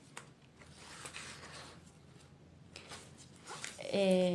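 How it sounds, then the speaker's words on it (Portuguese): An 80 cm zipper handled at a sewing table while making an agenda case, soft scraping and rustling with a brief zip near the end, faint and close, with someone talking. "E agora a gente vai preparar o nosso zíper."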